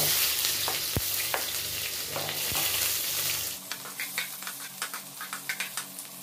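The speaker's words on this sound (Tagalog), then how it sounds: "Igisa natin sa sibuyas lang para may konting gulay." Onions sautéing in a frying pan as the base for fried okra, a steady sizzle with stirring scrapes, loud at first then settling into sharper intermittent crackles and spatula clicks.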